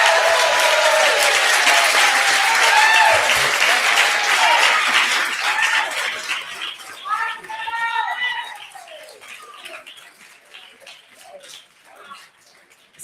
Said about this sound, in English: I hope those applause were for me